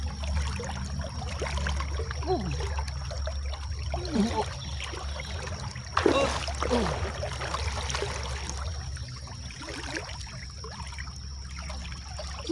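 A flooded river flowing with a continuous rushing, trickling wash of water and a low steady rumble, moderately loud and unbroken throughout.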